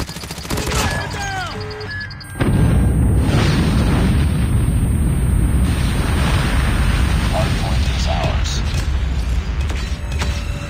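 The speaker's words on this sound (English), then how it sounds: "Friendly nuke has been launched." A nuke detonates in Call of Duty: Mobile Hardpoint multiplayer on the Satellite map, bursting in with a sudden heavy boom that rolls into a sustained, loud roaring rumble. Brief game announcer voice lines come before it.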